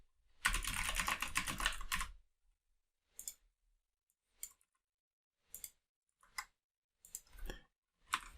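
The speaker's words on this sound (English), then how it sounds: "here I'm going to type import matplotlib.pyplot as PLT" Python code is typed on a computer keyboard, starting with a quick dense burst of keystrokes and then giving way to scattered single clicks and short clusters of key taps separated by pauses.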